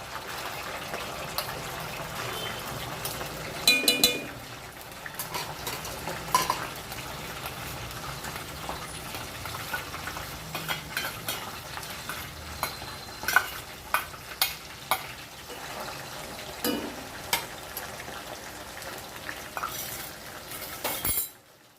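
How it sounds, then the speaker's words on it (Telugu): Onion paste frying and being stirred in a pan for a fish curry (chepala pulusu), with a steady close sizzle and scattered clinks and scrapes of a spoon against the pan. "ఇప్పుడు ఉల్లిగడ్డ పేస్ట్ అయితే వేసుకోవాలి."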